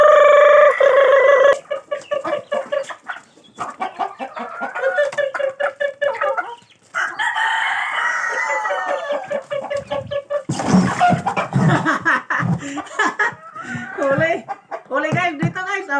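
Chickens cluck and squawk close by while someone tries to catch skittish birds, with someone talking over them and scuffling, flapping commotion partway through.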